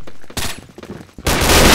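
Gunfire from a weapon in a video game, a loud sustained burst of rapid shots near the end after a short earlier blast, with no talking.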